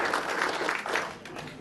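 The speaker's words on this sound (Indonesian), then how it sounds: "Beri tepuk tangan buat Ibu Sumi." Brief audience applause, a short burst of scattered clapping from a small indoor crowd at a health talk event, moderately loud and quickly tapering.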